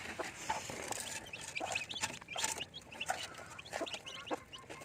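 Free-range native chickens cluck and chatter nearby while drinking, their overlapping calls repeating busily with no speech.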